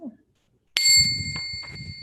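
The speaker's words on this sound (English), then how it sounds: "Can I ring the bell" One bright bell strike rings out sharply after a short silence and then sustains with a clear, lingering tone while a voice murmurs underneath.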